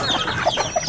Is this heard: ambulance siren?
no